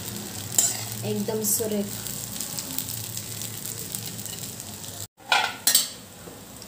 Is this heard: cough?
no